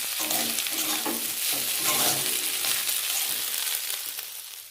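Potatoes frying in a pan, a steady close sizzle with faint stirring scrapes running throughout, no voices.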